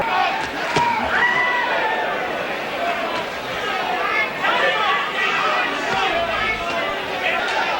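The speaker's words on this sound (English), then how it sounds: "the crowd, again, showing its both appreciation and support" A boxing crowd at a Mike Tyson fight cheers and roars in a steady, dense wash of noise, swelling slightly at moments, with commentary voices mixed in.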